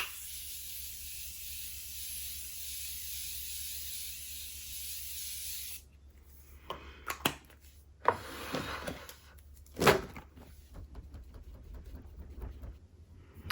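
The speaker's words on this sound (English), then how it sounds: "go in with my Morphe Continue Setting Mist and just spray my face" A steady hiss of Morphe Continue Setting Mist sprayed onto a face runs for several seconds, loud and close, then stops, followed by a few soft handling taps and rustles.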